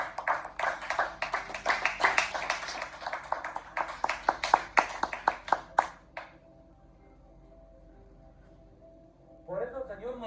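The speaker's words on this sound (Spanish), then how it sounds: "Dale palmas." A church congregation claps hands in a quick, steady rhythm for about six seconds, then the room falls quiet before a voice begins speaking near the end.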